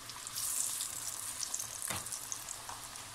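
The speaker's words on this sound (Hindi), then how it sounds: "इसी तरह हम सारी कढ़ाई को भर लेंगे और फ्राई करके दिखाते हैं" Spinach pakoras frying in oil in a kadhai, a steady bright sizzle with crackling bubbles and one brief clank of a utensil midway, close and fairly quiet with no talking.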